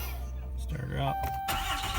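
A 2016 Ram 2500 with a Cummins diesel engine cranks briefly and fires up into a loud rumble, with a voice heard over part of it.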